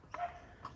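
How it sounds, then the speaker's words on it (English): Dogs barking down the road, heard as two short, faint yips in an otherwise quiet room, spaced about half a second apart. "dogs down the road that have just started barking, and my girl's decided she needs to join in."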